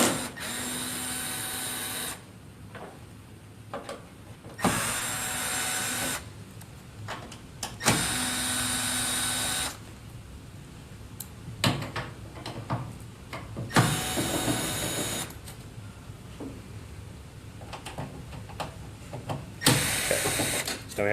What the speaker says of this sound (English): Next, we want to take off our screws for our front plate.